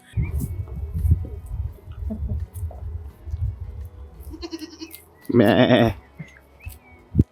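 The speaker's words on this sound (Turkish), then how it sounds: "Hatta etrafta keçiler de var. Sesleri belki geliyordur bilmiyorum." Several goat bleats ring out in a short burst near the end, over a background of low rumbling and faint outdoor noise.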